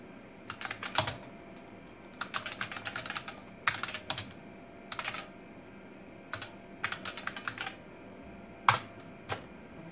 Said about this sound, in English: Otherwise, it's a pretty nice keyboard to type on.